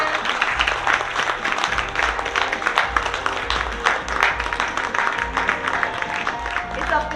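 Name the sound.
round of applause at retirement function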